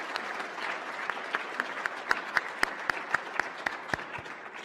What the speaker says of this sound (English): join me in a warm round of applause for those who made this possible